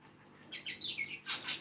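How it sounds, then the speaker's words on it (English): Pet birds in a home chirp and squawk in a short burst of bright, quick calls, fairly faint and close, with no voices. "the birds definitely make loads of noise"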